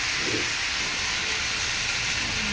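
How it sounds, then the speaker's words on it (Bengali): Tomato pieces sizzle in hot oil with five-spice seeds, a steady loud hiss of frying that stays constant throughout without talk. "ফোড়নটা ভালো করে ভাজা ভাজা হয়ে গেলে দিয়ে দেবো টুকরো করে রাখা টমেটো"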